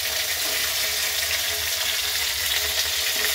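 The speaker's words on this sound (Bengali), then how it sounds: "গাঁটি কচু ছেড়ে দিলাম, একটু হালকা ভেজে নেব।" Taro pieces (gathi kochu) frying lightly in hot oil, a dense and continuous sizzling hiss that stays loud and even throughout, with no voices.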